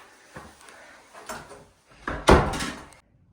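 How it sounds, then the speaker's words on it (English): A women's shower room door at a campground opens or closes, giving a few soft knocks and rattles that end in a louder latch and thud, heard alone with no talk. "Here's the door of the women's shower."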